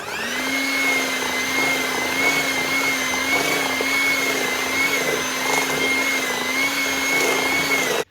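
An electric mixer whirs steadily through green Lucky Charms cookie dough, a close, loud, even motor whine with faint wavering pitch that runs unbroken for several seconds before cutting off abruptly.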